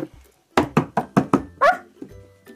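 A person imitates a dog, giving five quick, loud, evenly spaced barks close to the mic, then a longer whining howl during a playful improv game.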